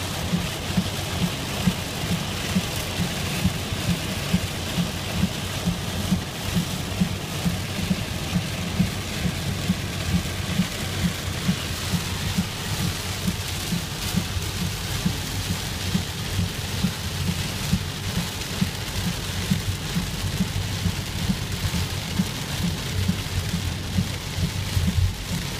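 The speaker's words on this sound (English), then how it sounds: "Yep, this is a hurricane in" Heavy rain pours in a thunderstorm over the flash-flooded Virgin River Gorge along Interstate 15, as a loud, steady, unbroken roar of downpour drumming on surfaces, with thunder rumbling underneath.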